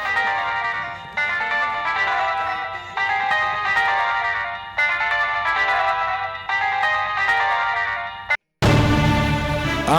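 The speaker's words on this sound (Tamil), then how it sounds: "டேய், போன் அடிக்குதுடா." A mobile phone ringtone plays in a Tamil TV serial scene, a loud melodic electronic tune repeating in short looping phrases, then cutting off abruptly before another bright burst of sound.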